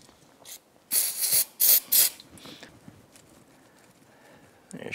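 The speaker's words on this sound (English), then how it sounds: "I usually use a little bit of parts cleaner to spray down on the front edge." Parts cleaner hissing from an aerosol can onto the front edge of a throttle body during a Yamaha YFZ450R top end rebuild, in three close bursts of about a second each, with faint workshop clicks around them.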